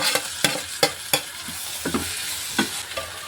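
Tomato being stirred and fried in a hot pan for an aloo paneer paratha filling, with a steady low sizzle broken by about ten sharp scraping strokes of the spoon against the pan, close and fairly loud.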